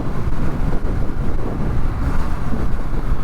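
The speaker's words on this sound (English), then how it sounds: "I do feel the wind pushing on me" Steady, loud wind roar buffeting the microphone while riding a BMW R 12 S motorcycle at speed, around 4,000 RPM on an open road, continuous and broadband with no talk.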